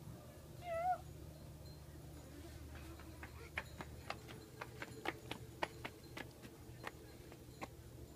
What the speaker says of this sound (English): Lynn, are you being a meow?